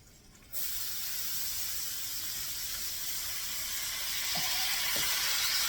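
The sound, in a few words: hash browns sizzling on buttered griddle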